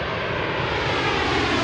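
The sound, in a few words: jet airliner at Washington DCA airport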